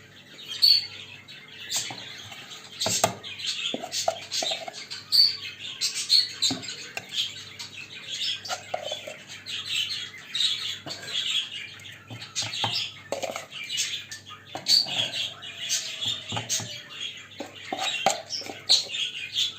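Budgerigars chirping around feeding time for egg food, a busy flock of rapid high twitters and squawks in irregular bursts throughout, close and lively, with light clicks and rustles in the cage.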